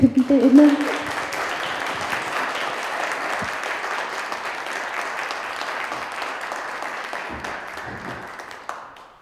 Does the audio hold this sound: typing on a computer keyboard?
no